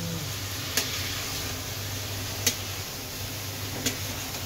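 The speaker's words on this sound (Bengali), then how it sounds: "এই তো পুরো কলা তো এখন মশলাটা আস্তে আস্তে হয়ে যাচ্ছে, শুষে নিবে আর এটা ভাজা ভাজা হয়ে যাবে" Banana pieces fry in spice masala in a pan, giving a steady, quiet sizzle with a low hum underneath and three sharp, brief clicks spaced a second or two apart.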